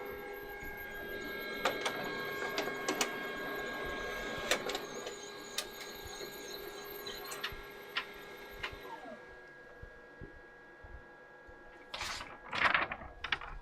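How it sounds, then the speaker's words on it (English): An office printer runs through a print job, with a steady mechanical whir, repeated ticks and clicks of the paper feed, and a brief burst of sharper rattling near the end, close and fairly quiet. "Turn the printer on, give it a minute to get all booted up."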